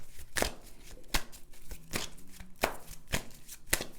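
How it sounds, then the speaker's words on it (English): Tarot cards being shuffled by hand, a series of crisp riffling and tapping bursts repeating every half second or so, close and fairly quiet with no voice. "I'm going to just basically shuffle the cards."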